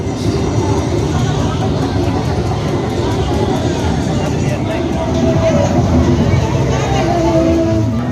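Dragon train amusement ride rumbling at a Jurassic World exhibition, a steady broadband mechanical drone mixed with crowd babble and talk throughout, with a few brief tonal whines near the end.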